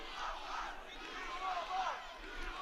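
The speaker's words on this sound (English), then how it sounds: "the crowd chanting, U of R, U of R" Crowd of spectators chanting at a collegiate quidditch championship match between Texas and the University of Rochester in Round Rock, Texas; a steady, massed roar of voices with rhythmic swells, fairly distant and continuous throughout.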